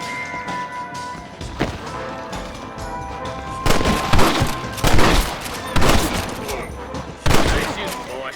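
Gunfire in Red Dead Redemption: several loud, sharp shots and short volleys burst over a steady game background, spaced a second or so apart.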